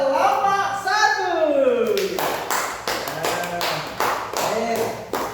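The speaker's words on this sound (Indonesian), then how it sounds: "Tepuk tangan untuk kelompok 1." A classroom of students claps for group 1 with scattered, uneven hand claps after a teacher speaks at the start.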